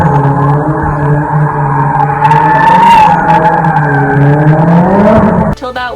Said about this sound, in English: some fast and furious kids driving their cars really fast and skidding and doing donuts in the parking lot we were in